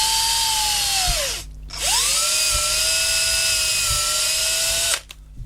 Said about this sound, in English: So I'm just going to try drilling that now